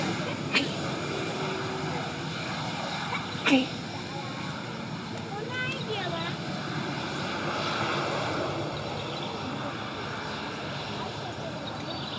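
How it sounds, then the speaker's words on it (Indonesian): An airplane just landed from Jakarta taxis near the runway in Pekanbaru, engines droning steadily, a continuous broad rumble and whine with faint voices and a couple of brief knocks. "memperlihatkan proses operasional pesawat setelah menyentuh landasan"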